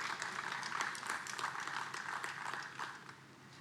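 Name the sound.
applause for the panelists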